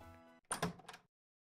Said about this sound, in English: let's try opening the door now